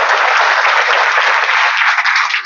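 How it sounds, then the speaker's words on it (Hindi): A seminar audience in Barabanki applauds in a dense, steady burst of clapping that holds loud and even throughout, with no talk over it. "हाँ जोर से ताली बजाओ"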